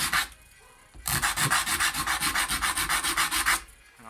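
Hand sanding with 100 grit sandpaper, a brief stroke and then a quick, rhythmic run of back-and-forth rasping strokes, close and clear with no talk.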